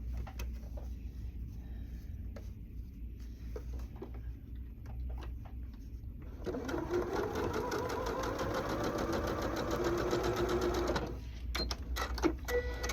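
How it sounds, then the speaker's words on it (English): Sewing machine stitching two quilt block pieces together, a steady rapid mechanical whir running for several seconds after a stretch of quiet handling noises, close and fairly loud. "I'm going to sew that together."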